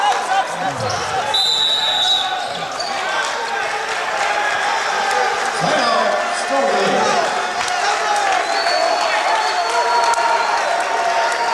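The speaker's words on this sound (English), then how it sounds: "So the Stonehill fans are giving a nice round of applause to the Skyhawk starters." At a Stonehill College men's basketball game against Bentley College, fans applaud the Skyhawk starters with a sustained crowd clapping and murmur, a ball bouncing on the court, and a commentator talking over it.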